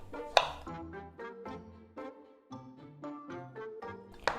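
A knife chops a chili pepper on a cutting board in a home kitchen, about a dozen crisp, distinct taps in an uneven rhythm, close and fairly quiet, with no one talking.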